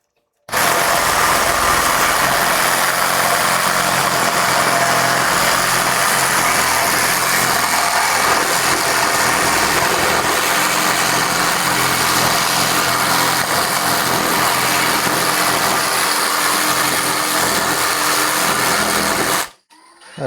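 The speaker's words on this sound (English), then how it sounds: "Using a saw to do basic sanding work." A power saw used for sanding a couch runs in one loud, continuous, steady grinding whine for about nineteen seconds, starting and stopping abruptly with little variation in between.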